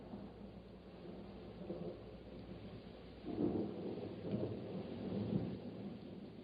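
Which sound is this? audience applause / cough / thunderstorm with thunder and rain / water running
thunderstorm with thunder and rain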